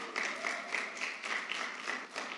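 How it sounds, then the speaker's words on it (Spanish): A small group claps together for a couple of seconds, a light, brisk round of applause with no talking. "Un aplauso para Ana"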